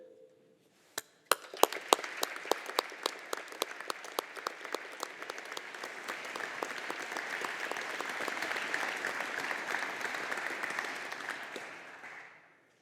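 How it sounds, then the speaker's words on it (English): Audience applause at a graduation ceremony, starting with a few scattered claps and building into a sustained crowd clapping that holds steady for several seconds before fading out at the end. "applause."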